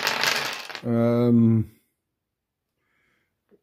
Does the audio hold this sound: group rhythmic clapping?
no